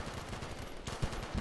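Gunfire in Call of Duty Black Ops 3, with quiet, rapid bursts of shots and a few sharper reports heard faintly in the mix.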